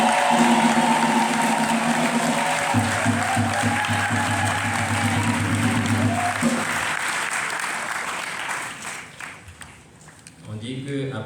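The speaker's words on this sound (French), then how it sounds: "Applaudissons pour le ressuscité." Easter Vigil congregation bursts into sustained applause in a church, dense and loud for several seconds, mixed with crowd voices and a low instrumental tone, fading toward the end as talk resumes.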